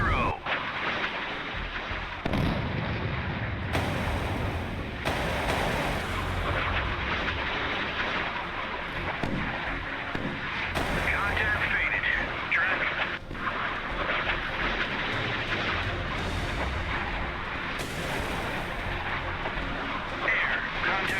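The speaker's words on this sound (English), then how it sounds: "There we have a hit against another ship." In the naval combat game Sea Power, a Harpoon missile strike against the Soviet carrier Kiev brings repeated heavy booms and rumbling blasts layered over continuous battle noise, with loud thuds recurring every few seconds throughout.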